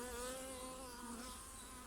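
Honeybees at an apiary hive drone in a dense, steady hum from very close, unbroken for the whole moment, with no talking.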